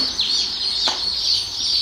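Chickens cluck inside a poultry surprise box that may also hold ducks and turkeys, a close, busy chorus of clucks and cheeps running continuously.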